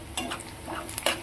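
Onion and tomato frying in a pan while being stirred, with a few brief scraping strokes and soft clinks over a low sizzle, close and fairly quiet.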